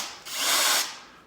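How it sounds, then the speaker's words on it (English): A hammer action drill bores through thin, lightweight aluminium in one loud, close burst of about half a second, rising quickly and trailing off, with no voices. "hammer action drill"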